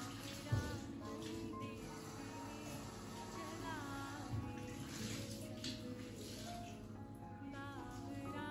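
Dishes are washed in a kitchen sink under running tap water, a faint continuous splash and trickle with a couple of brief clinks of pots or plates.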